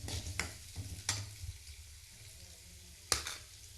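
Onions frying in a pan at home, with a faint steady sizzle under a few sharp scrapes of a spoon stirring against the pan, heard close and quiet with no talking.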